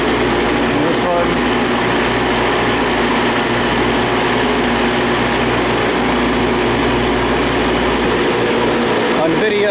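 York 40 ton rooftop air conditioning unit running with its fan spinning fast, a loud steady mechanical roar and hum filling the whole stretch without pause.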